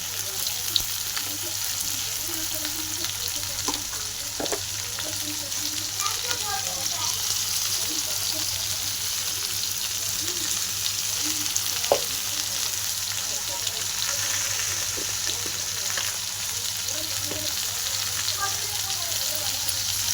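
Ivy gourd sautés in a pan with salt and turmeric, a soft continuous sizzle with occasional scraping stirs and light clatter, fairly faint and steady.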